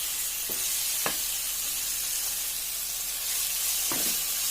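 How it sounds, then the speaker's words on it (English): Masala of onions and tomatoes fries in oil in a pan, a constant bright sizzling hiss with a few soft clicks of stirring scattered through it. "So you can see the masala is fried well."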